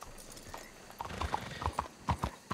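Horse hooves clop in an uneven trotting rhythm in Red Dead Redemption, close and fairly loud, with soft snorts and ambient game sound around them.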